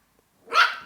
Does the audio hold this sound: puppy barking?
yes